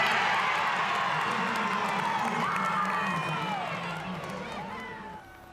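Students in a school cafeteria erupt in loud, sustained cheering and shrieking as their Little League all-stars score a run. The roar is steady and crowded, with whoops throughout, then it thins and drops off near the end.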